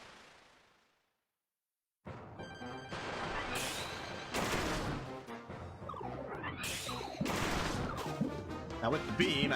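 Beam ability attacks in Kirby's Return to Dreamland Deluxe: after a moment of silence, a dense run of crackling, zapping game effects with sharp bursts and crashes continues loudly without a break.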